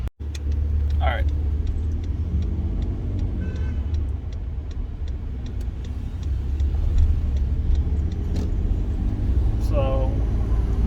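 Pickup truck fitted with a Corsa exhaust cruising at very light throttle, a steady low engine rumble and road drone running throughout without letup, with faint chirps over it.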